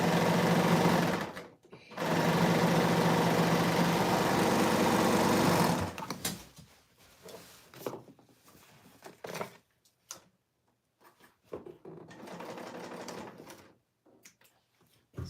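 A serger sewing machine stitches fabric in fast, loud, whirring bursts, two runs in the first six seconds, followed by quieter handling clicks and a shorter burst of stitching near the end.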